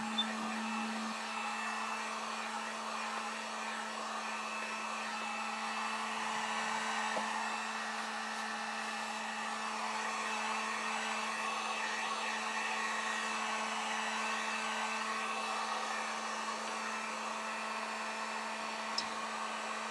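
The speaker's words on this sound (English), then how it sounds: "I know you're gonna hear this dryer for a minute." A handheld hair dryer blows steadily and loudly up close for the full stretch while drying paint on a miniature house makeover, a continuous whir with a constant tone and no talking.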